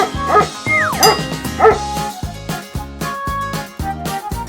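A small dog barks in a rapid, rhythmic series of sharp yips, close and loud, while playing fetch with a ball.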